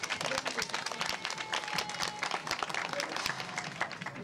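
An audience applauds a 200 m African champion at an official ceremony, a dense, steady patter of clapping throughout with a faint voice mixed in.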